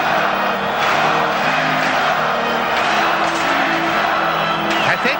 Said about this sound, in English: the way the crowd is here, it makes it very difficult to hear it